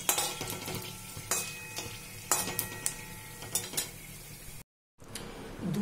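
Fennel seeds, whole garam masala and dried chillies frying in oil in a pan, stirred with a utensil: crackling sizzle under repeated sharp scrapes and clinks, close and clear, with a brief silent gap near the end.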